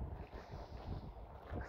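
Cold wind blows during snowfall in South Korea, a continuous low, gusting roar buffeting the microphone with no voices.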